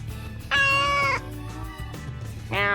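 A whiny house cat lets out two loud, drawn-out meows, close to the microphone, with a quieter pause between them.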